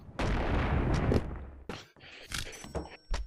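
A rocket launcher fires in the video game Animal Company, a loud broad whooshing blast followed by several shorter booming bursts and thumps in quick succession.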